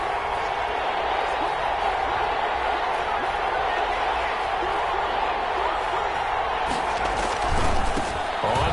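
Stadium crowd noise in a Madden NFL 21 video game, a dense continuous roar of cheering that holds steady and swells slightly near the end, with no commentary over it.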